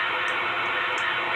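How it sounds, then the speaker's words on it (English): Raw, unfiltered EEG brainwave signal rendered as sound through an inverse Fourier transform: a steady, dense hiss across the midrange with faint periodic ticks, continuous and even for the whole stretch. "This is the sound of the raw brainwave signal, unfiltered."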